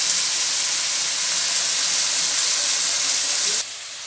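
Potatoes frying in a pan for a ridge gourd and prawn curry give off a loud, steady sizzling hiss that continues throughout and drops abruptly near the end.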